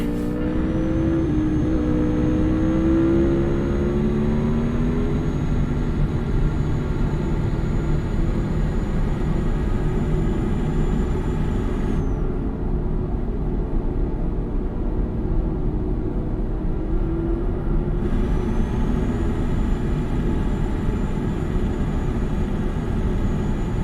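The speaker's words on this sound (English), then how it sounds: "Might have this engine just a little bit loud." Truck engine in Euro Truck Simulator 2, a steady loud drone with low rumble and shifting whine that holds throughout, briefly dipping in its upper layer midway, with no talk over it.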